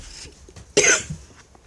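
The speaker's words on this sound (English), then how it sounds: "Oh, jeez, I got a cough." A single sharp, close cough from a person bursts out loud and lasts about a quarter second, followed by a brief rasp and quiet room tone, with no talking.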